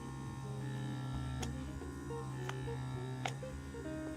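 A 3-in-1 diamond microdermabrasion machine runs steadily against facial skin, giving a continuous close electric buzz and hum with a few brief sharp clicks as the wand is moved in quick strokes.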